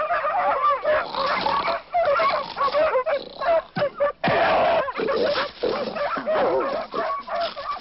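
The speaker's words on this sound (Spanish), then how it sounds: "Los perros encuevan un taitetú," Hunting dogs barking and yelping excitedly while cornering a peccary in a burrow in the Bolivian bush, several overlapping barks in rapid irregular bursts, loud and close, with brief gaps.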